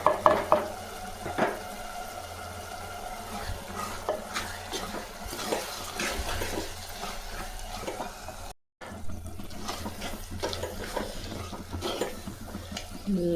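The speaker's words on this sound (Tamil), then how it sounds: "நல்லா வதங்கிடுச்சு பாருங்கள்." Small onions sauté in a pan with salt and chili powder, giving a steady soft sizzle. Stirring scrapes and clinks against the pan now and then, and the sizzle carries on throughout with only a brief break.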